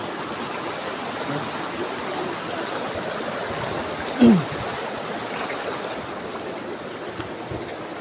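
Binadlan Falls in Binalbagan, Negros Occidental, with stream water rushing in a steady broadband wash and a brief louder splash midway; no talking.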